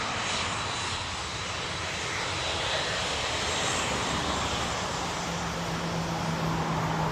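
A jet airliner's engines roar steadily and loudly at Bournemouth Airport, a broad continuous wash of noise heard close by with no talk over it.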